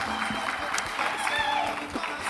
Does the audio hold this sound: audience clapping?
yes